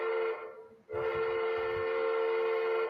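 A model train whistle sound effect blows a steady, harmonic-rich tone, dips briefly, then sounds again and holds loud and close for about two seconds.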